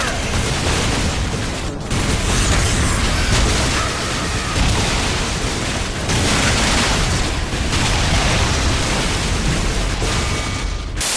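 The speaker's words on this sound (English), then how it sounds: "these guys have rockets that explode into 4 smaller rockets" Rockets in Metal Arms burst into smaller rockets, producing dense, continuous, loud barrages of explosions and gunfire-like blasts with only brief dips, while a voice talks faintly underneath.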